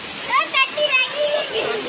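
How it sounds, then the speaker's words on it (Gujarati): Steady rain from a severe storm hisses in the background while a voice talks over it at close range. "જો વરસાદ ચાલુ છે"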